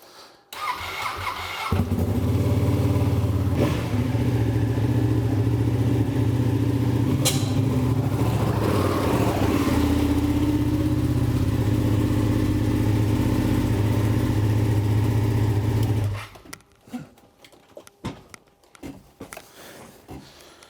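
A motorcycle starts and runs with a steady mid-pitched engine drone for about fourteen seconds while being ridden up into a van, close and loud, then cuts off into quieter clunks and rustling.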